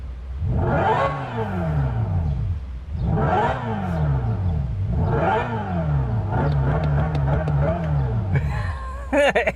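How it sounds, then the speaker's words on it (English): A Hyundai Ioniq 5 N electric car plays its synthetic evolved engine sound, rising in repeated rev-like sweeps, three surging climbs then a steadier drone, loud and close. "So this sound is kind of as a more evolved engine sound."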